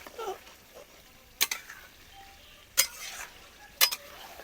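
A spoon clinks against a pot while white mutton curry is stirred in a village kitchen. Three sharp, separate taps ring out over quiet background hiss.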